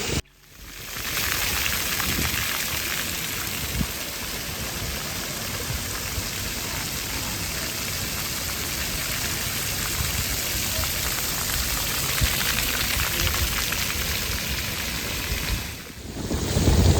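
Steady, dense splashing of about 1,000 fountain jets at Kings Cross, London, falling and spraying continuously, a broad hiss that holds evenly before briefly dropping away near the end.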